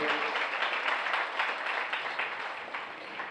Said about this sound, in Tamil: நாம் கைத்தட்டி நம்முடைய நன்றிகளையும் வாழ்த்துக்களையும் தெரிவிப்போம்